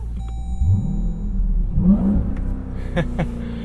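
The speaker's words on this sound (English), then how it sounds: "as that engine slowly revs up and down" The Hellcat V8 of a 2025 Dodge Durango SRT Hellcat idles nearby with a heavy low rumble, then revs up and settles back down in slow swells.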